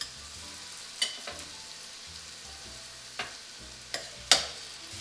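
Salisbury steak patties browning in a pan give a low, steady sizzle with a few sharp spatula scrapes and clicks as they are turned, fairly quiet and close, with no voices.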